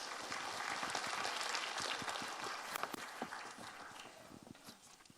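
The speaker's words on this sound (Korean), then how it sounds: "큰 박수로 환영 부탁드립니다." An audience at a science high school admissions briefing claps to welcome the principal. The crowd clapping is fairly faint and sustained, with a few sharper individual claps standing out before it tapers.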